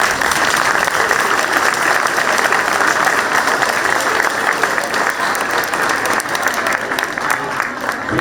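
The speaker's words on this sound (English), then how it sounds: "round of applause out to you" Audience at a school winter concert breaks into sustained, loud applause, dense clapping filling the room throughout.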